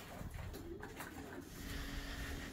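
Racing pigeons coo in the cock section of a loft, soft repeated throaty calls rising and falling over a constant low rustle, faint and close.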